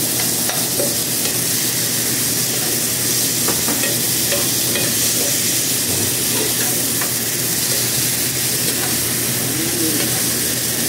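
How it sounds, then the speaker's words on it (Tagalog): Squid adobo with zucchini being sautéed in a pan: a steady, close sizzle and frying hiss with repeated scraping and stirring strokes throughout, no voices. "So gisa-gisa na natin."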